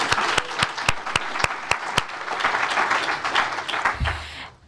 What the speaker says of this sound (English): So everyone feel free to wave or applaud.